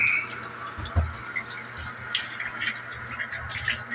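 A faucet runs in steady bursts as air clears from a cold water line, sputtering and spitting with uneven gushes and a thump, close and continuous with no talk.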